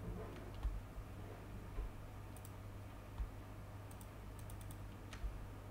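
Quiet typing on a computer keyboard while coding a Unity health bar, sparse soft clicks and taps scattered over a faint steady background hum.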